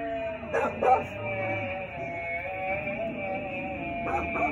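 A few short barks and yips from dogs at a distance over a steady droning hum.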